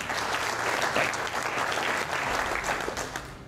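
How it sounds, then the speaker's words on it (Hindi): A crowd claps loudly and steadily for a few seconds, a dense burst of applause with no voices above it. "जोरदार तालियां भाई के लिए"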